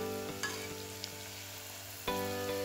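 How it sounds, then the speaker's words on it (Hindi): Chicken spring rolls deep-frying in a wok of hot oil give a steady, even sizzle with light crackles and a couple of soft clinks of a utensil, with no voices. "सभी स्प्रिंग रोल हम फ्राई कर लेंगे"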